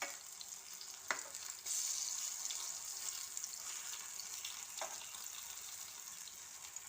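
Breadfruit (jeegujje) slices frying on a hot tawa give a steady, moderately loud sizzle that runs the whole time, with a couple of brief clinks or scrapes as the pieces are turned. No one speaks.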